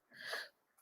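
One short, breathy sneeze from a person, fairly close and alone, lasting about half a second before quiet.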